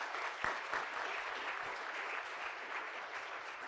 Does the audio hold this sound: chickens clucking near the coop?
no